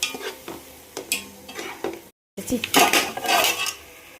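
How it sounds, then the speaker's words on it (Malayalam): Tomato paste being stirred in a cooking pot for chicken dum biryani, with loud repeated scrapes and clanks of a metal spoon against the pot over a light sizzle, then a short silent gap. "തക്കാളി പേസ്റ്റ് ഒഴിച്ചു കൊടുക്കാം നല്ലപോലെ ഇളക്കി കൊടുക്കണം"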